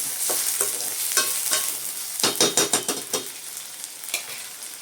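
Prawns for a semi-gravy sauté in a pan with a steady sizzle, broken by bursts of scraping and clattering stirring around the middle, loud and close with no one talking.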